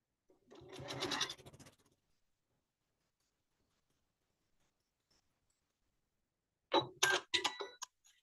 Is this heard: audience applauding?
no